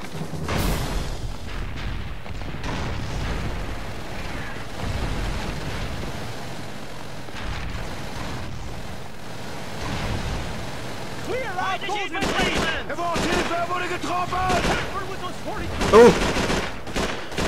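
Grenade explosions and gunfire in Call of Duty 3 on a wartime river battlefield, with booming blasts and rattling shots over a constant rumble, while voices shout through the action.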